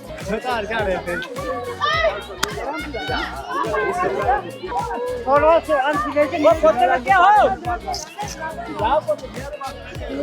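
Dense crowd of children playing and chattering at Chandanwari in Kashmir, on a muddy, dirty-snow path. Many young voices overlap in a steady, lively hubbub.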